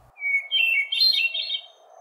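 A hermit thrush sings a single clear, fluting phrase about one and a half seconds long, close and prominent, with ringing notes that rise in pitch and no voices or other sounds competing.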